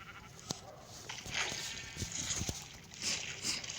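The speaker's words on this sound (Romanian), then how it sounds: "Uite că am găsit și o oaie" Sheep in the Minecraft video game bleat a few times in short, moderately loud calls, with light game footsteps and ambient sounds between them and no talking.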